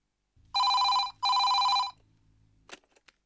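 Two long, loud telephone bell rings sound in succession with a short gap between them, followed by a few faint clicks as the ringing stops.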